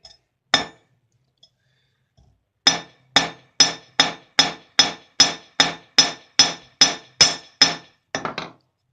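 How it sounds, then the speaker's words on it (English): A ball peen hammer flattening a metal joint on a bend: one lone blow, a pause, then about a dozen sharp, ringing strikes in a steady rhythm, ending in quick lighter taps. "Now to make this joint better, I take the ball peen hammer."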